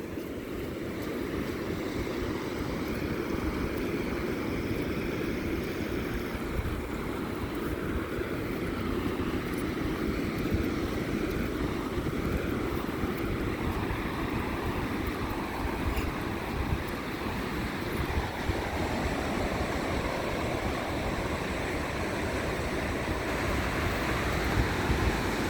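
Sea waves wash steadily onto Shilaoren beach in Qingdao, a constant broad surf roar mixed with wind buffeting on the microphone, with no clear breaks.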